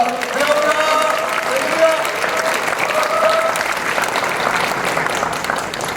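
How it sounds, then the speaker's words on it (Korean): A church congregation gives warm welcoming applause as a pastor comes up to preach, loud continuous clapping with a few faint tonal sounds mixed in under the clatter. "김현수 목사님 올라오실 때 뜨겁게 환영의 박수 보내주시기 바랍니다"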